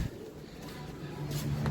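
A pigeon coos softly and repeatedly nearby, low throaty calls over a quiet background hum.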